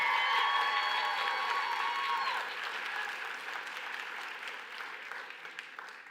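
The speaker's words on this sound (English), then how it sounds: "Can we give another round of applause for Professor Medina?" Audience at a nursing school commencement applauds a professor, a full round of clapping with some cheering and a few whistles at first, fading gradually toward the end.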